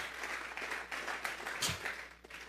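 A church congregation claps as an offering of applause during a Spanish-language sermon, a steady, fairly faint wash of hands with no voices over it.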